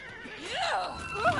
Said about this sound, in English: Oh, stay back, you silly horse!